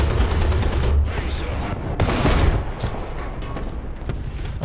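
Gunfire in War Thunder from an M13/40 Serie II tank battle: a few loud, sharp booms with crackling bursts at intervals, under a low engine rumble and no speech.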